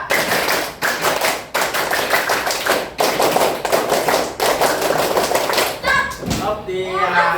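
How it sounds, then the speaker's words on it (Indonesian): Group scout clap (tepuk pramuka) in a classroom, two rounds of rapid rhythmic hand clapping, loud and close, with a voice calling out at the end. "Selanjutnya 2 kali tepuk pramuka"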